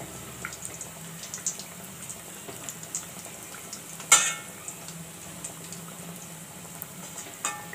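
Wheat rava vegetable cutlets fry in a pan with a steady low sizzle, punctuated by a few soft clicks and one sharper clatter as a cutlet is flipped; no one speaks.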